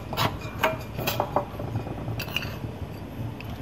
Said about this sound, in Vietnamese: các bạn thêm bột ngọt cho mình bạn trộn đều lên nhé